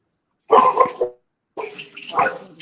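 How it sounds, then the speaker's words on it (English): A dog in an office barks twice, loud and close, with a short gap between the two rough, yelping outbursts and no talking over them. "Another dog just walked into our office and he's lost it."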